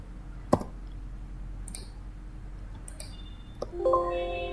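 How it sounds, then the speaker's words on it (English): Delete key pressed on a computer keyboard during CAD software work, a single sharp close click followed by a few faint clicks over quiet room hum, with no talking. "you hit delete from your keyboard"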